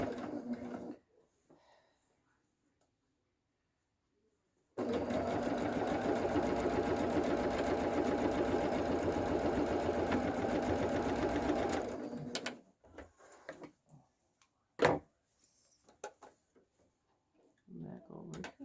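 A sewing machine stitches the corner of a patchwork zipper pouch in one steady, buzzing run of about seven seconds, close and loud, then stops. Quiet handling noises and a sharp tap follow, with a soft voice before and after.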